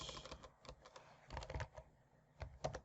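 Someone types the ipconfig command on a computer keyboard: a quiet, irregular run of distinct keystroke clicks in small bursts, close to the microphone, with no talking.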